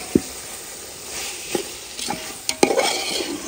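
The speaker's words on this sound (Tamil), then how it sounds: "சிக்கனை சேர்த்து மசாலாவோட நல்லா மிக்ஸ் பண்ண வேண்டியதான்" Chicken pieces with yogurt frying in a masala for seerakam samba chicken biryani, stirred with a few sharp spoon scrapes and taps over a steady close sizzle, no talking.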